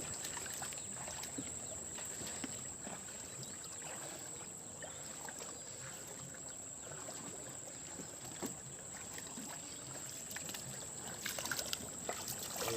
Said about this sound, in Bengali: বন্ধুরা আস্তে আস্তে আমরা নৌকাটাকে নিয়ে এগিয়ে যাচ্ছি